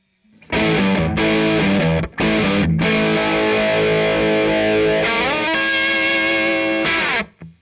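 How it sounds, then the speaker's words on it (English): An electric guitar through a Red Witch Famulus distortion pedal plays loud sustained chords with short breaks between the first few, then rings out in long fuzzy held notes before cutting off. "dial up a particular sound which they can truly say is their own unique distortion"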